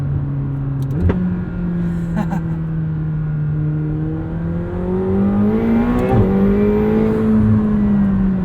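A 2021 McLaren 720S Coupe engine pulls hard from inside the cabin, its steady drone rising in pitch through gears with quick, seamless shifts and a brief pause before climbing again.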